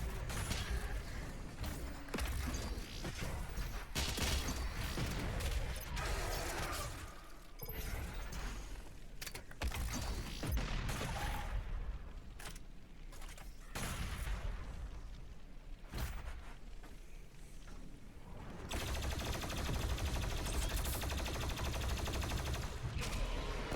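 Doom Eternal combat on Ultra Nightmare, where an explosive barrel is shot amid dense gunfire, bursts and mechanical clatter, loud and continuous with a heavy rumbling low end and a brief lull midway.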